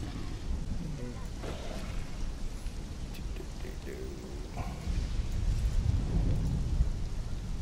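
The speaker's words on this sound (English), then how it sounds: "it's currently thundering in the jungle" Low rumbling thunder rolls through a rainy jungle in Conan Exiles, swelling louder near the end beneath steady rain, with a voice talking over it.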